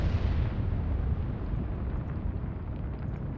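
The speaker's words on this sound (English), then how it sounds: "When they start internal explosions for no reason, that's never a good sign." Ship explosions in the naval strategy game Atlantic Fleet: a dense, rumbling blast roar that starts loud and slowly fades over a few seconds, heard alone without talk.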